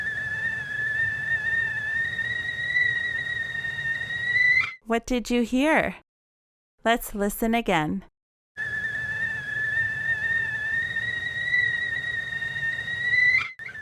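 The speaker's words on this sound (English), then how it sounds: "It's the tea kettle calling." A tea kettle whistles in a steady, piercing tone that sustains for several seconds, stops while a voice speaks briefly, then returns just as loud and rises at the end.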